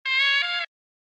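A short horn sample run through an old-telephone EQ preset that strips the lows and highs, giving a thin, nasal, mid-focused tone; a single held note of about half a second that shifts pitch partway, then stops, alone.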